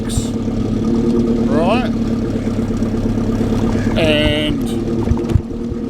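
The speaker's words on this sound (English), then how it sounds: "I don't know if you can still hear me or not through the burble of the exhaust" A Toyota Hilux converted into a homestead water truck idles with a low, steady exhaust burble, while someone talks over it at close range.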